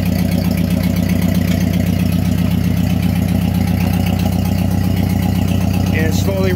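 A Ford 8N tractor with a Sherman backhoe idles loud and close with the PTO engaged, a steady low chugging engine drone with a regular beat throughout and a brief squeak near the end.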